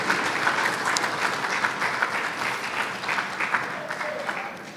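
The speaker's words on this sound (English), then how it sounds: "your applause has echoed our congratulations to her for this well-deserved appointment" Members of a SADC Parliamentary Forum plenary assembly applaud in a large hall, a steady wash of many hands clapping that holds for about five seconds before easing slightly.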